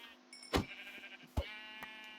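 Minecraft sheep bleat over a steady hum of in-game ambience: a loud, close bleat near the start, a second short one after a pause, then a fainter brief call, with no voices.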